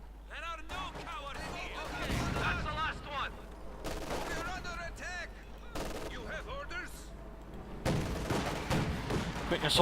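A flak panzer attacks in a Company of Heroes 2 1v1 match, and bursts of rapid gunfire and explosions rise and fall. An excited commentator talks over them the whole time.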